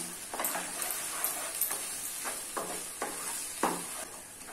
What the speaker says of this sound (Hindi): अभी इसमें हम लोगों ने जो टोमेटो की प्यूरी बनाई है वो ऐड कर लेना है और मिक्स कर लेना है